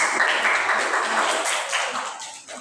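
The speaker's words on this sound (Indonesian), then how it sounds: "Tepuk tangan dulu." Classroom applause from a group of students, a steady dense wash of clapping held at a constant level from start to finish, with no talk over it.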